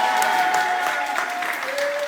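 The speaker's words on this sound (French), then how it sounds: "On peut applaudir..." Applause from a group gathered in a villa, a dense steady patter of clapping with a few faint voices mixed in.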